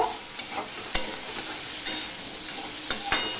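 Potato pieces frying in oil in a pan for a prawn curry, with a steady broadband sizzle and a few sharp clicks from stirring, close and moderately loud, no voices.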